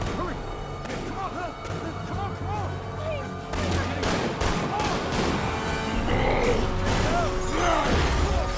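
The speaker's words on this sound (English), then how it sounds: "And now we're getting sniped at too." Sniper shots and bursts of gunfire ring out in Marvel's Spider-Man Remastered on PC amid a chaotic street battle, sharp repeated cracks layered over game music, mechanical clatter and voices.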